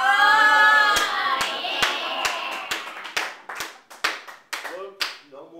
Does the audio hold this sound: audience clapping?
yes